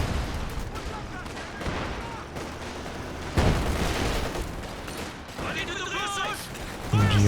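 Machine gun fire in a Company of Heroes 2 match, an MG34 and an opposing MG trading bursts amid artillery booms and distant rattling volleys, with a commentator talking over the busy battle.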